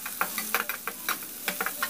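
Chopped large onion is stirred in a hot pan of spluttered tempering, with a steady soft sizzle and repeated short scraping strokes of a spoon.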